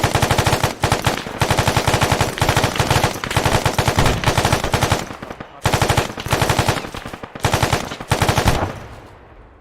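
Rapid automatic gunfire rattles in loud, dense bursts with short pauses between them during a close-quarters combat field training exercise, with no talking.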